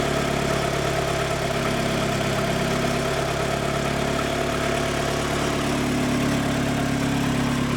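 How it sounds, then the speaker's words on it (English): A turbocharged Mazda Miata engine idling on four cylinders with a rattle, a steady close rumble with a constant droning hum and buzzing vibration throughout, loud and unbroken with no voices. "at least it runs on 4 cylinders and sounds pretty good except for that rattle"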